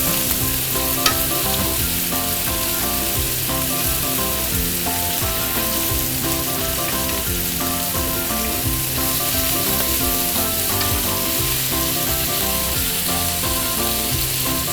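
Octopus searing in a hot pan for chocolate adobong octopus, a loud continuous sizzle running throughout beneath steady background music.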